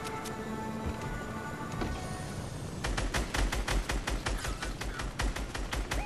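Rapid video game gunfire in a battle-royale style match, starting after a stretch of background game noise and continuing as a fast, loud, evenly spaced string of shots to the end.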